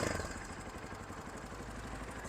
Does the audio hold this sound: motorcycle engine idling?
yes